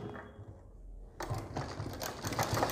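A sewing machine stitching a fabric strip onto a neckline, running in a fast, even mechanical chatter that starts after a quiet moment and continues close and steady, with no talking.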